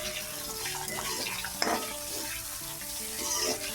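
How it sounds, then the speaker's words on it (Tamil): Garlic, ginger and onion sautéing in a pan for beef curry, a soft steady sizzle with stirring scrapes and one sharp clink of the utensil midway, low and continuous with no voices. "உள்ளி, இஞ்சி எல்லாத்தையுமே சேர்த்துக்கொள்கிறேன். இது நல்லா வதங்கி வரணும்."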